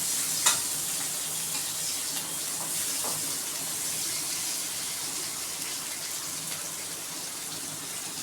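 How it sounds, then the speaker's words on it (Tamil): Chopped green capsicum sizzles and fries in a pan for Masala Macaroni, a steady close crackle with a few louder stirring scrapes and clinks, no talk. "குடமிளகா போடணும் இல்லையா, நல்லா வதக்கிக்கோங்க."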